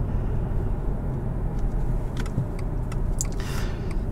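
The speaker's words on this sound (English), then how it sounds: "It does take a quick second for it to spool up, but once it does, man, this thing hauls." A 2021 Subaru Legacy XT Touring turbo sedan is heard from inside the cabin with broadband road and engine rumble, steady and loud, plus a few faint clicks and rattles toward the end.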